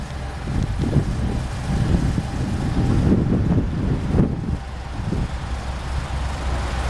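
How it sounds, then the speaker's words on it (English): A 2012 Chrysler 300C SRT8 V8 engine idles with a deep, steady rumble, heard close by, with some wind buffeting the microphone. "Absolutely beautiful sounding motor."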